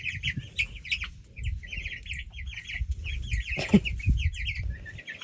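Cornish cross chickens out on pasture cluck and chirp in quick, overlapping bursts close by, with soft scratching and shuffling underneath as they move over their feed.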